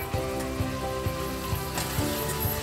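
Potato and fenugreek sabji frying steadily in a pan as chopped tomato goes in, a continuous close sizzle with faint periodic scraping or stirring, no voices.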